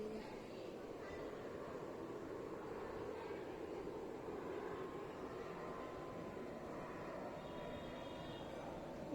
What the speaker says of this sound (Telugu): విమానం పోతుంది విమానం పోతుంది